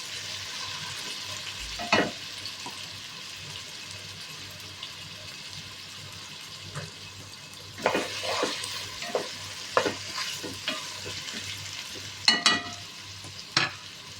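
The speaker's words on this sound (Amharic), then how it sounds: "ቲማቲሙን አብሬ እንደዚህ በደንብ አድርጌ ጠብሰዋለሁ ማለት ነው።" Tomatoes fry and sizzle in a pan under a steady low hiss, with several sharp scraping stirs of a utensil clustered near the middle and end.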